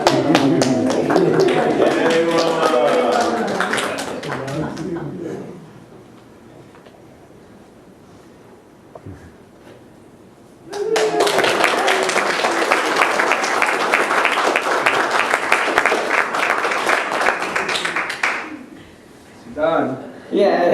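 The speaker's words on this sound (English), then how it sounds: "Clap hands. Clap hands." Congregation at a Unity San Francisco church service clapping hands in a loud, dense burst for several seconds, then a quiet pause, followed by a second long stretch of vigorous group clapping with voices mixed in.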